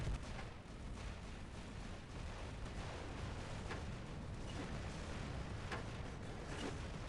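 Incoming weapon fire pounds a robot on the Canyon map in War Robots: a faint but dense stream of booming shots and impacts, with repeated sharper hits standing out.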